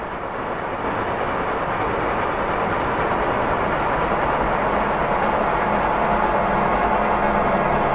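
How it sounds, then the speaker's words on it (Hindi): A train rolls in steadily at a station with a loud, continuous rumble and rattle that builds slightly over several seconds. No one speaks. "कुछ ही देर बाद वहाँ अगली ट्रेन भी आ जाती है।"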